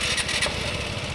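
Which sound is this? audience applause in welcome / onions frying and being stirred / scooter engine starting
scooter engine starting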